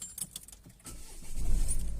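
A car starts up and pulls away to the asphalt edge, with a few light rattles and clicks first, then a low engine rumble that swells and stays loud.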